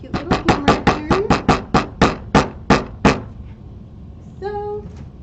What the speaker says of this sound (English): grab my cute little hammer here.